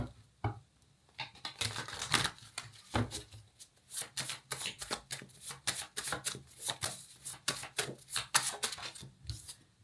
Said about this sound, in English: I don't know why I shuffled this deck again